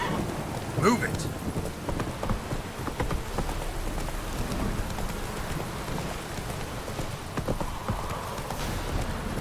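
A heavy Witcher 3 downpour patters steadily while horse hooves clop close by and thunder rumbles underneath, continuous throughout.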